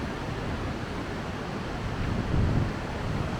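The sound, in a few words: strong wind outdoors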